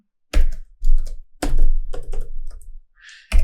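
Code is typed on a computer keyboard for a Java Selenium test script, sounding as close, loud bursts of rapid key clatter separated by short pauses, with a final quick burst at the end.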